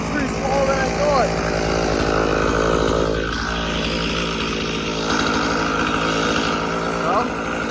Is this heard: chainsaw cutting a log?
yes